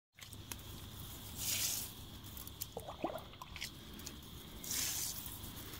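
Tap water runs steadily into watering cans, a continuous hiss with occasional drips and splashes, swelling louder for a moment near the start and again near the end.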